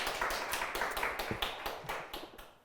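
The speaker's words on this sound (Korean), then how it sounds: "다 들립니다. 박수 소리." A small audience at an education symposium claps in a quick, fairly even rhythm of sharp, close hand claps that continues throughout.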